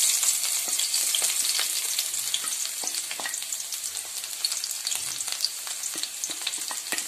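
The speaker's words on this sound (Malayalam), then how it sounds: "ചെറിയുള്ളിയും കറിവേപ്പിലയും അരിഞ്ഞിട്ട് കൊടുത്ത് ഇതൊന്ന് മൂക്കട്ടെ" Chopped shallots and curry leaves fry in a pan for a beef brain fry, making a steady close sizzle with scattered small pops and crackles, and no one speaking.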